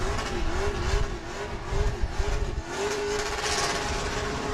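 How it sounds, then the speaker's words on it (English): A race car doing a victory burnout after a race, engine revving hard in repeated surges as the tires spin, loud and close with a wavering, pulsing roar. "And Lassard going to do a little victory burnout for you"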